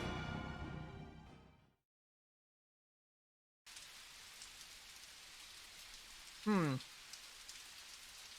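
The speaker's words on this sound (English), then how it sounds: "Otori Kanae watches the man sink to his knees in the rain" Rain pours in a visual novel game, a dense steady hiss of drops that resumes after a short silence, with a brief rising chirp partway through and no speech over it.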